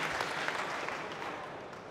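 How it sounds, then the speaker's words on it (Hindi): An audience applauds a speaker at a talk for young entrepreneurs with steady, dense clapping from a sizable crowd that carries on evenly for two seconds without pause. "मैंने अभी तक कुछ ऐसा किया नहीं है जिसके लिए इतनी ज़्यादा तालियां बजाई जाएं"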